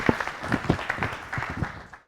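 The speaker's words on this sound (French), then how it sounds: "si vous pouvez applaudir plus fort" An audience at a public procurement awards ceremony claps in a short, uneven burst of moderate loudness, with a few louder individual claps standing out before it stops abruptly.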